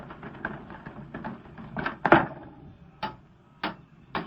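Wooden garage doors being opened in an old-time Green Hornet radio drama: a cluster of creaks and rattles, then a loud thud and a few spaced knocks, close by with no talk over them.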